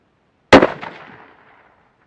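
A single sharp rifle shot from a Mossberg 800B at an outdoor range, loud and close, with a short echoing decay trailing off over about a second.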